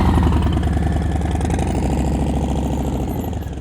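Motorcycle engine in first gear during slow-speed riding practice in California, a steady close putter at low revs with a slightly fading tail, no talk over it.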